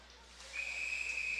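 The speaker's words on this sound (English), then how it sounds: "We get a whistle here" A referee's whistle cuts through the arena noise at a women's college ice hockey game between RPI and Colgate, one sustained shrill blast.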